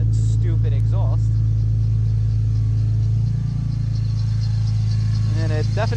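A BMW E46 M3 with 195,000 miles drones loudly and steadily through its exhaust with a deep rumbling tone, someone talking over it at the start and end.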